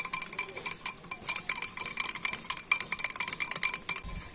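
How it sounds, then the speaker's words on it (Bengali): A hand-held blender whisks sour curd (yogurt) in a bowl with rapid, busy scraping and clinking strokes, close and fairly steady, with no talking. "তো ব্লেন্ডার দিয়ে একটু এইভাবে ফেটিয়ে নিতে হবে।"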